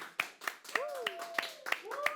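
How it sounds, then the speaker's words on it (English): A few hands clap in slow, separate beats on a halftime show while a voice speaks over them, the claps sparse and fairly close. "Everyone give a big round of applause"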